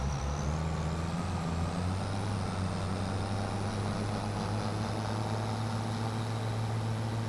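Delivery truck driving in the Farming Simulator 25 video game, a steady low engine drone with a faint high whine running unbroken throughout, no talking.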